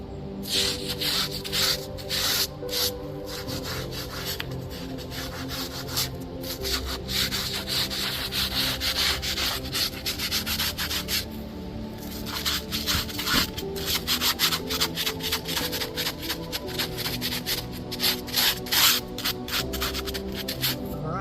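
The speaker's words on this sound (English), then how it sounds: "we'll come back around with our angle brush and get all that gunk out from where the foundation meets the base" An angle brush scrubs grime from the seam where a concrete headstone foundation meets its stone base. The rasping strokes are close and repeated in a steady rhythm with no talking.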